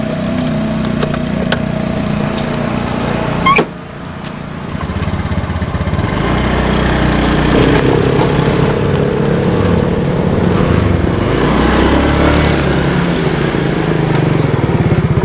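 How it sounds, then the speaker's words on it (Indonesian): A motorbike engine runs loud and close, a rough continuous drone that dips briefly early on, then keeps revving as the bike is ridden away. "Ci, motor gua dibawa-bawa."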